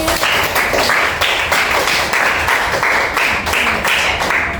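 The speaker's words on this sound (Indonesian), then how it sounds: "beri tepuk tangan untuk kelompok 4" Classroom applause for a student group presenting, a brisk continuous patter of many hands clapping together, loud and close, pulsing slightly in waves throughout.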